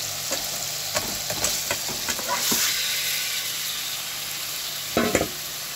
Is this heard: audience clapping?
no